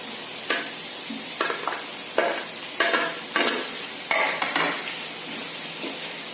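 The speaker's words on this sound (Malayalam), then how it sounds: "നമുക്ക് ഇതിലോട്ട് പൊട്ടറ്റോ ഇട്ട് കൊടുക്കാം." Boiled potato being added and stirred into softened onions frying in a pan, with a steady sizzle beneath repeated scraping, scooping strokes of a spoon against the pan, no talking.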